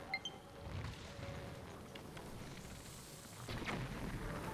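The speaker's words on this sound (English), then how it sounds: "I thought the explosion might get it" A low rumbling blast echoes through an open Hyrule landscape in Zelda Breath of the Wild on Master Mode, a sustained boom rolling for several seconds with a second swell near the end, with no talking over it.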